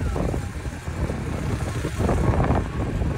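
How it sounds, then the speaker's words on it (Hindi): Motorcycle riding through the streets of Lahore at night, a rumbling engine under heavy wind buffeting, steady and close throughout. "बाइक पे लाहौर की सड़कें,"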